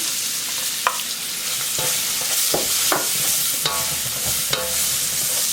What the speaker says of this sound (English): I'm gonna add garlic and onion.